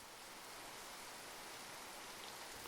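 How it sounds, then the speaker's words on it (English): Rain drums steadily on the roof of a small cabin in the Adirondacks on a cold autumn day, a soft, even hiss that stays constant and faint throughout with no voices. "I hear the rain hitting the roof,"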